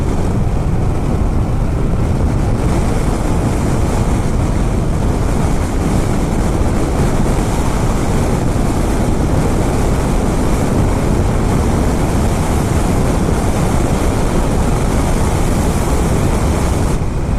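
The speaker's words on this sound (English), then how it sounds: "You really notice the difference with the wind when you're sitting up high on here compared to the 959." Steady, roaring wind buffets a rider sitting up high on a 2017 Honda Africa Twin motorcycle at speed, a loud broadband rush that holds constant throughout.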